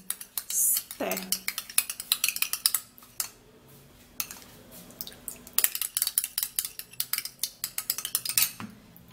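Egg white mixture is stirred in a bowl with a utensil, giving quick, rhythmic clinks and scrapes that come close and fairly clear, with a brief pause midway and a few faint words of talk.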